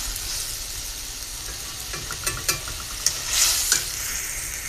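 Chili, turmeric and ginger sizzle in a hot pan as they are sautéed, a steady close frying hiss broken by several sharp scrapes and clicks of stirring.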